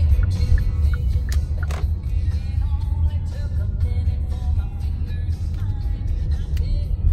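A car drives slowly into a residential neighborhood, its steady engine rumble and road noise continuous and close throughout, with faint incidental sounds over the top.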